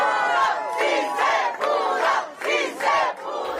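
A large crowd of fast food workers and labor leaders cheers and shouts loudly and continuously at a bill signing with Governor Gavin Newsom, voices swelling in repeated waves with no speech over them.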